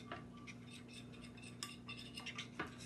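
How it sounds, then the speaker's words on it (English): A spoon stirs a gelatin mixture for special-effects use in a bowl, giving light clinks and scraping ticks in an irregular rhythm, close and fairly quiet over a steady low hum. "Stir it up as best you can."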